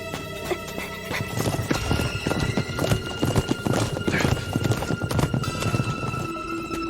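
A horse's hooves clip-clop steadily with a loud whinny mixed in, close and busy, set against a tense historical drama scene with other background noise.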